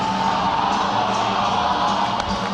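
Roller derby crowd at an Oakland versus San Francisco bout cheers steadily across the whole stretch, a broad wash of voices and whoops at even, fairly loud level with no clear break.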